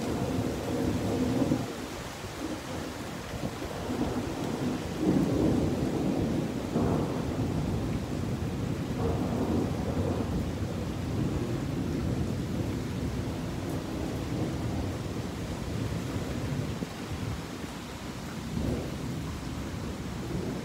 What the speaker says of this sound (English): It's blowing hard and harder and harder.